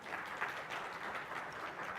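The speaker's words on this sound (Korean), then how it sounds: "큰 박수 부탁드립니다." Audience applause at a Django developer conference talk, a steady continuous patter of many hands clapping from the room, moderate and even throughout with no voices over it.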